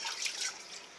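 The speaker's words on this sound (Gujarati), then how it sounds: "આના અંદર થોડું પાણી નાખી દેવાનું હલાવી દેવાનું ઢોળ દેવાનું" Water splashes and drips as a glass is rinsed at a home sink, a short close burst of bright trickling and spattering with no voices.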